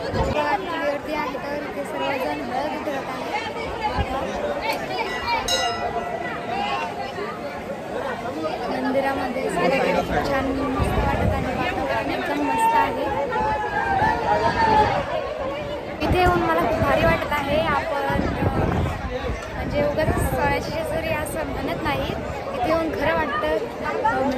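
Dense crowd chatter from devotees gathered at Khandoba temple in Jejuri, a steady close babble of many overlapping voices that holds at an even loudness throughout.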